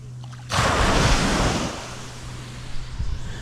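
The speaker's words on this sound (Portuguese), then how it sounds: "Olha como é que a água bate aqui. Dá uma pancada." Ocean waves crash onto the beach at São Gonçalo near Paraty, a sudden loud surge that breaks and then washes back in a long, hissing wash, close by with wind noise.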